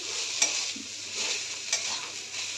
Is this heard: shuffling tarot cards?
no